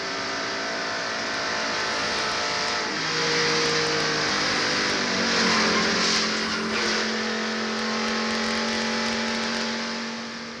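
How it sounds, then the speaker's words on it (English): A Meineke Ford NASCAR stock car at Daytona International Speedway in 1993 loses control, engine roar swelling and shifting pitch as tires scrub, with a broad sweep of loud racing-car noise and crowd ambience. "Looks like that Jimmy Spencer and Meineke Ford is going to lose control going in turn 1"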